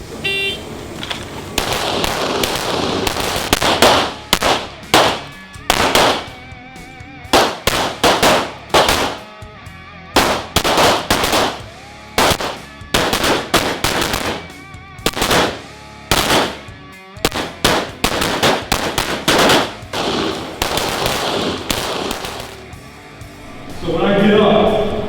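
Firearms training for police recruits on a range, with many sharp gunshots in irregular bursts and volleys, some clustered quickly, and a voice talking over parts of it.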